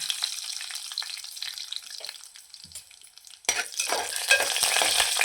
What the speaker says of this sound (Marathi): तूप चांगलं गरम झालं त्यावर आता आपण लवंगा आणि हिरवी वेलची टाकून घ्यायची आणि थोडेसे काजू घेतलेले ते काजू सुद्धा टाकून घ्यायचे